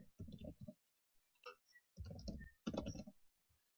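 A password being typed on a computer keyboard, heard as short bursts of close, quiet key clicks separated by brief pauses.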